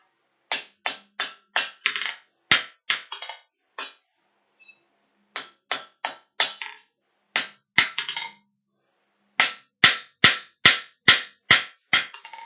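Sharp metallic planishing hammer blows on metal at a forge ring out in quick rhythmic bursts of several strikes, with short pauses between groups, close and loud.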